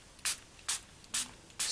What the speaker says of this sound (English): spray on the pen cleaning